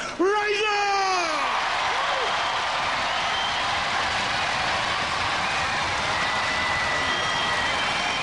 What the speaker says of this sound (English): scream your applause